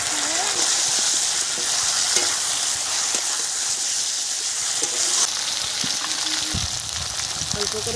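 Potatoes fry in a pan with ground spice paste and tomato, giving a steady, close sizzle with occasional stirring scrapes, alone without talk.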